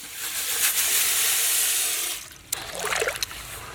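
Water pours and trickles over toor dal and moong dal set to soak in a village outdoor kitchen, a steady broadband splash that breaks off briefly, then returns in shorter uneven bursts.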